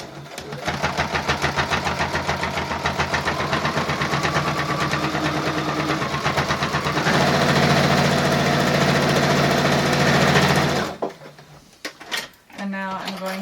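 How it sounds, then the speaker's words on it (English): Sewing machine running a straight stitch down corset fabric, a steady fast mechanical whirring and needle chatter up close for about ten seconds, then stopping into quiet handling noise. "do a straight stitch down one side, straight stitch down the other"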